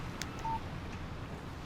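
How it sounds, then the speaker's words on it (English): A short, faint electronic tone from a phone text message alert in the video game Alan Wake Remastered plays once over a steady low background hum. "Text message from Barry."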